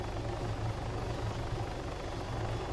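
A helicopter in Arma 3 holds steady in flight nearby, its rotor thumping in a constant low chop under a continuous broad engine and wash roar, loud and unbroken with no talk.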